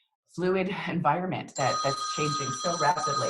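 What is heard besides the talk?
telephone ringing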